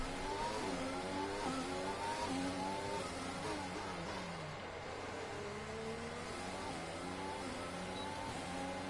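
A race car engine revs and accelerates up through the gears as it pulls onto the track in Austria, loud and close, the pitch climbing in repeated sweeps before easing slightly near the end.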